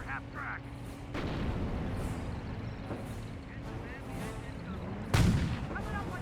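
A light half-track fires a shot in a Company of Heroes match between Panzer Elite and US forces, a sharp loud boom rising over continuous battle noise of gunfire and rumbling, with a commentator talking throughout.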